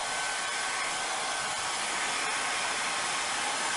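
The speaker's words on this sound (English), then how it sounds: "So let's take this hair dryer here." A hair dryer blows continuously at close range to warm a vinyl skin wrap for a Google Home, making a steady, loud whooshing hum without a break.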